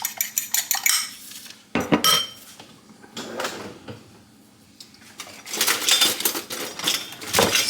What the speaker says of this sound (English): So you whisk your egg